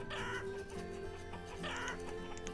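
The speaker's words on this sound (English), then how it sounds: "There are a lot of chickens as well" Chickens cluck steadily in a farming settlement in the video game Banished, a continuous layer of clucking fowl with a faint background hum and no talk.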